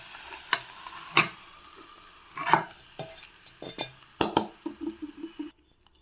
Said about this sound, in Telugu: ఇప్పుడు ఈ పోపుని మనం బజ్జీలో వేసుకుందాము, వంకాయ బజ్జీలోకి